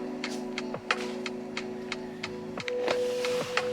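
White ink circulator on a DTF printer running: a steady low electrical hum with faint, irregular ticks and clicks over it, heard alone and fairly quiet.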